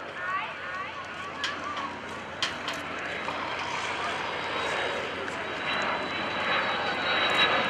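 An F-16 Viper fighter jet flying at an airshow, a steady loud jet roar sustained throughout with a broad rushing tone and brief sharper bursts, crowd voices audible underneath.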